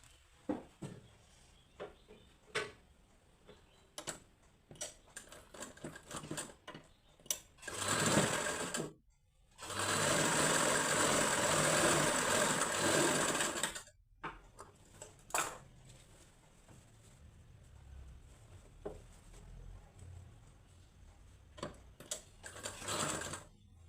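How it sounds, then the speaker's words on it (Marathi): A sewing machine stitches a straight seam on a katori blouse in two bursts, a short run and then a longer steady whirring run. Between and around the bursts come quiet clicks and handling noises. "तर सगळ्यात आधी आपण ह्या सरळ बाजूने शिलाई मारून घ्यायची आहे."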